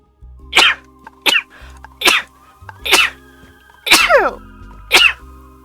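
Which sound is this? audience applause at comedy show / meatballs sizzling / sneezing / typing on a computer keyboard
sneezing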